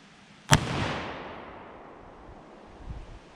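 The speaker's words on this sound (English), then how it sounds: "I'm gonna shoot one more time." A single loud .338 Lapua rifle shot at a bowling ball, a sharp crack followed by a long rolling echo that fades away, with a faint thump at the end.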